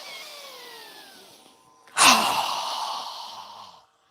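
A single strong, forceful exhale during a yoga breathing exercise bursts out loudly after a quieter breath, trailing off into a long airy rush through the nose or mouth.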